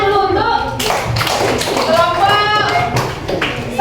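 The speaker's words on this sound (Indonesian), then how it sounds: "Tepuk tangan sekali lagi yang meriah" Students in a classroom clap in a dense, lively burst of applause that rises and falls over a few seconds, mixed with voices.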